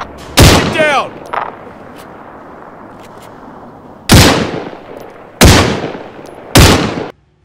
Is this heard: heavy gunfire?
yes